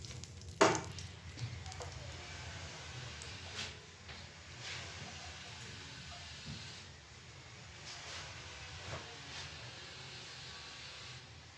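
Cumin seeds and bay leaves are dropped into hot oil for tempering, opening with a sharp burst of sizzle that settles into a steady crackling fry with occasional stirring scrapes, no voices.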